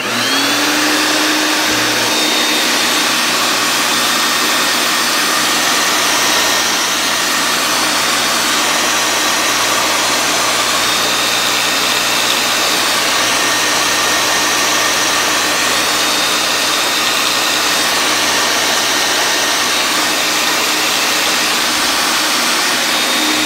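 A vacuum cleaner switches on and runs with a loud, steady whooshing roar that continues unbroken, close by and drowning out everything else.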